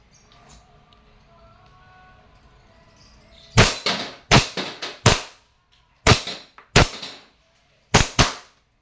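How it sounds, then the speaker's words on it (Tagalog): A KJWorks KP-06 airsoft pistol fires seven sharp, loud, close shots in uneven pairs and singles after a few seconds of quiet room tone. "This is the KG Works KP06 High Kappa. Okay. Firing."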